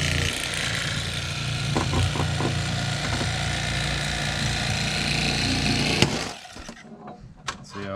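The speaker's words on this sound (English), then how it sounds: "you're going to take your fillet knife and you're going to go down to the middle right behind this fin, all the way out" An electric fillet knife runs with a continuous buzzing motor whine as it cuts a catfish fillet along the backbone, holding steady for about six seconds before stopping, with a few soft knocks after.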